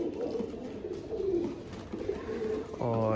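Pet pigeons cooing in a home loft, low rolling coos repeating close by, growing louder toward the end, with faint background noise throughout.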